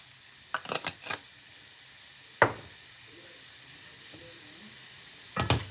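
Chicken and vegetables, lightly salted and seasoned with paprika, frying in a pan for an Indomie noodle dish, with a soft sizzle under three bursts of stirring scrapes and clatters, spaced a couple of seconds apart.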